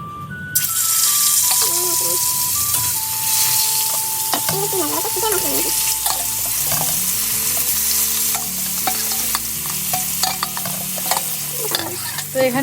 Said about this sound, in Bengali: তেলটা দিয়ে দিলাম মাছ ভাজার জন্য